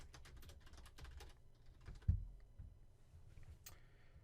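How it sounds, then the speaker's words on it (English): Fingers type on a computer keyboard in quick bursts of close key clicks with short pauses, one louder thump midway, in a quiet room. "I'm going to type discussing the sociological imagination."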